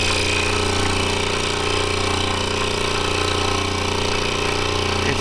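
A scroll saw cutting a bow saw template runs continuously with a loud, steady buzzing drone and rapid reciprocating hum, close and unbroken throughout.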